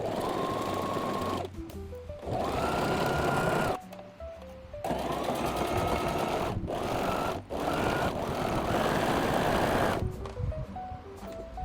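A sewing machine stitches a seam on a T-shirt in several sustained bursts separated by short pauses, with brief stepped electronic tones between runs and no talking.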